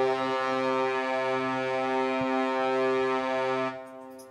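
A virtual brass instrument sounds at high velocity for a harsher, raspier tone, holding one sustained, buzzy note for nearly four seconds before it cuts off abruptly, no voices.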